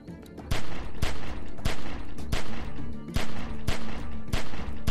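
Repeated loud gunshots during a firefight, sharp bursts spaced roughly every half second to second, sustained across the whole stretch with no voices over them.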